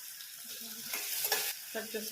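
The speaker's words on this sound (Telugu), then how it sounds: "అలాగే సన్నగా కట్ చేసుకున్న ఉల్లిపాయలు వేసుకోవాలి" Thinly sliced onions going into a hot pan, a soft steady sizzle with a few stirring scrapes, quiet and close.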